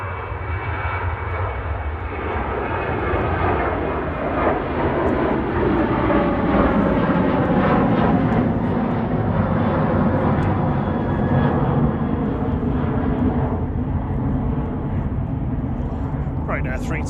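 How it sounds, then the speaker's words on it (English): A Boeing 737-800 departs Manchester Airport for Brussels Charleroi, its engines a loud, sustained roar that swells and then slowly fades, with people talking over it. "3238 to Brussels Charleroi, 9HQEA, 737-800 departing there"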